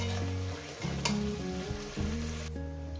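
Spices sautéing in oil for a mutton and potato curry, a soft, close sizzle with stirring sounds and a tonal background underneath, no voices.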